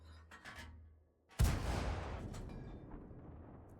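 An M41D light tank fires its main gun in World of Tanks: a single loud, sharp cannon blast with a heavy low-end thump, trailing off into a long rumbling decay after a brief quiet lull.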